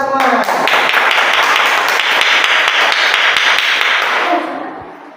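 A class of pupils in an Islamic religious education lesson claps together in a loud, dense burst of hand claps that fades out near the end, with voices mixed in.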